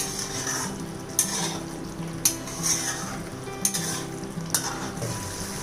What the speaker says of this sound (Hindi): अब इनमें अंडों को डालना है। अच्छे से मिक्स कर लीजिए।